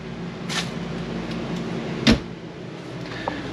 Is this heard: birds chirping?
no